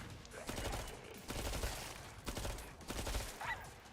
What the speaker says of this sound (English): I have a Tommy gun and Z time. I'm obligated to fire randomly.